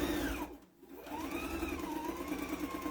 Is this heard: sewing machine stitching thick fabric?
yes